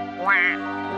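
A mother duck gives a single loud, close quack, a short nasal burst over a steady tonal background.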